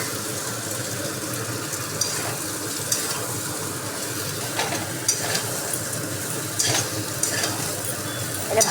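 Taro and potatoes tossed into a pan of frying prawns with turmeric and salt: a steady loud sizzle and crackle, punctuated by repeated scrapes of a spatula stirring every second or so.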